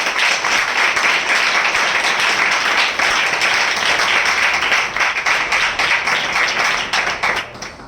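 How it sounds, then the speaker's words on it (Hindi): A congregation at a spiritual revival gathering gives loud, sustained applause, a thick and close roar of many hands that stays strong for several seconds before it begins to thin near the end. "हम जोरदार तालियों से उनका स्वागत करें।"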